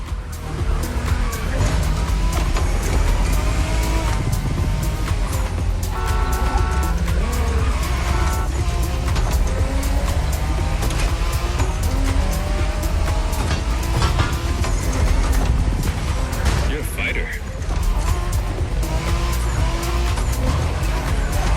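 A Toyota Supra race car roars through a video game race with sustained loud engine drone and tire squeal, close and continuous, while a voice briefly speaks over it.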